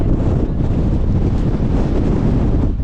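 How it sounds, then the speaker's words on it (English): Strong, gusty gale-force wind on a Lake District fell in the Langdales, roaring loudly and continuously across the microphone with heavy buffeting and no voices. "So there are strong gusts today."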